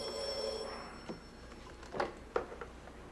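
An old telephone bell rings in a 1978 Quebec drama scene, a faint metallic trill at the start followed by a few quiet clicks and knocks in a hushed room.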